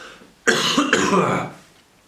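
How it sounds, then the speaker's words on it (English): A close, harsh cough of two quick bursts, alone, then silence. "Sorry about the cough, people."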